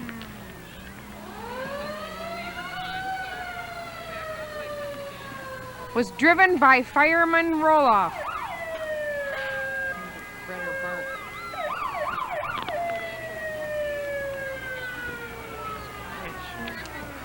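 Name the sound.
antique fire truck siren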